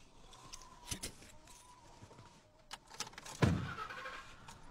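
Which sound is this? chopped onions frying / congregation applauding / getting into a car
getting into a car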